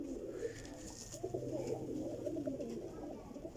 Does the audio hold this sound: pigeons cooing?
yes